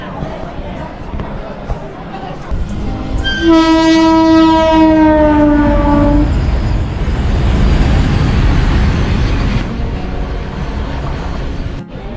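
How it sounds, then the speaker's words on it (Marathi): A freight train passing on the Konkan Railway, heard from a moving passenger train: a loud horn blast sounds for a few seconds, then a heavy, close rolling rumble of wagons continues, with faint voices in the background. "आता तुम्ही पाहिलं जी मालगाडी गेली इकडनं"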